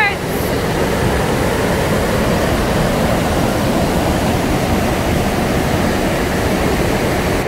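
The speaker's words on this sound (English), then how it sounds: "Here's the top of the waterfall, and if you see right here, that waterfall goes right into a hole." A waterfall on Minnesota's North Shore pours into a rock hole, a loud steady roar of rushing water filling the scene without pause from start to finish.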